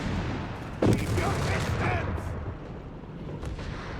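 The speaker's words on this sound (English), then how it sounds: "And yes, blowing up your tank" A tank wreck is blown up with a satchel charge in the Company of Heroes 3 war game: one sharp, close blast early on, followed by rattling battlefield gunfire under excited commentary.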